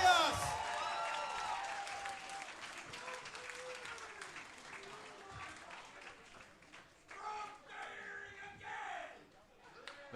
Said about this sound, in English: The crowd certainly fired up here at Turkey Slam.